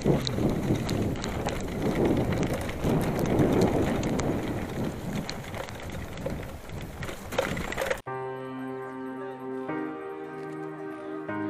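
Rain pours steadily on a downhill mountain bike trail in Sikkim, a dense wet hiss with gusty noise for about eight seconds before cutting abruptly to a quieter tonal passage.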